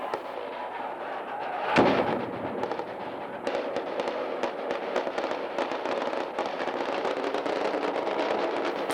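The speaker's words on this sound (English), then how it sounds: "wounded by a hand grenade that goes off near the Russian embassy" A hand grenade goes off near the Russian embassy during street unrest, one sharp blast cutting through a dense, noisy crowd din, followed by continuing crackling and popping in the background.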